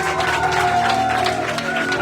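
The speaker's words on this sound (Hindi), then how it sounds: "एक बार जोर से ताली बजा दिए।" A church congregation claps together loudly in a dense, steady burst of applause, with a faint sustained tone running underneath for the whole short stretch.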